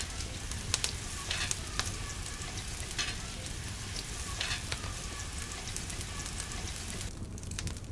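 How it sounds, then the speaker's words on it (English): Onions searing in melted fat in a pan outdoors for a wild boar stew, giving a steady, dense sizzle with a few faint crackles and pops throughout. "We add the onions and we sear them until they get translucent."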